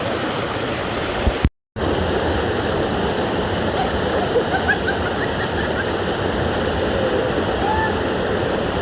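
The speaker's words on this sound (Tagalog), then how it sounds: "Ang ganda ng falls no." Waterfall with water cascading over many stacked rock layers, a steady broadband roar that fills the whole clip, cut by a brief dropout early on and joined by faint bird calls.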